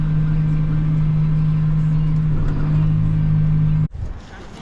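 A vehicle pulling a wagon loaded with straw bales out of a barn gives a loud, steady low engine rumble with a droning hum, then drops off sharply near the end, leaving a quieter rumble.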